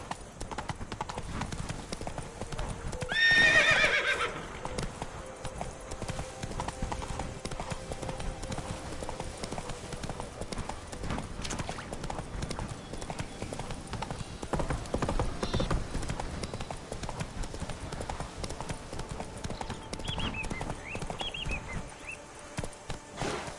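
Roach the horse gallops in The Witcher 3, a steady rhythmic clip-clop of hooves running throughout, close and continuous, with a brief louder rustle early on.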